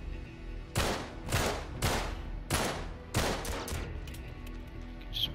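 Rapid bursts of gunfire in Uncharted 3 during a London Underground level, five or six sharp, loud volleys in quick succession with echoing decay, followed by fainter scattered shots.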